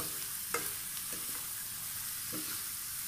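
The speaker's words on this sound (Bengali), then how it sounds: "এখন আমি সম্পূর্ণটা মিশিয়ে ফেলছি" Masala pasta is stirred through butter in a pan, with a soft continuous sizzle and a few faint scrapes of the spoon, heard quietly with no talking.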